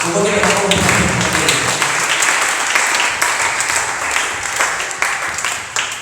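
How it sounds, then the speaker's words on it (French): Church congregation cheering and clapping together, a dense, loud wash of applause with raised voices that tapers slightly over a few seconds. "Est-ce que tu peux acclamer pour la gloire de Jésus?"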